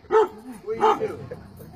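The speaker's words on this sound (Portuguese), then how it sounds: "vemos um cachorro latindo para um homem que está sentado em um banco" A dog barks at a man seated on a bench, giving two short, close barks with a whimpering tone about half a second apart, followed by quieter noise.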